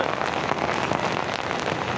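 Rain pours steadily during a morning motorcycle ride through Jakarta, a dense, even hiss of drops close by with faint pattering spikes and no voices.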